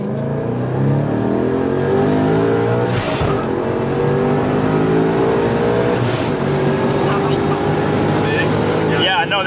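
A supercharged Ford Mustang S550 with a 5.0 V8 pulls hard in gear, its loud engine note climbing steadily in pitch with a brief dip at a shift, heard close from inside the car.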